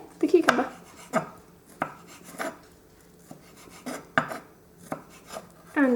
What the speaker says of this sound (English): I then chop on here the cucumber.